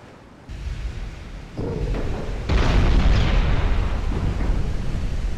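Naval guns firing in the warship combat game Ultimate Admiral: Dreadnoughts, Italy 1890, with heavy booming blasts that build into a loud, sustained roar of continuous gunfire.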